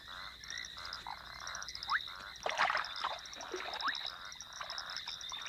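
A frog chorus at an African pond at night: dense, repeated pulsed croaks and chirps over a steady high trill, continuous and fairly close, with no voices.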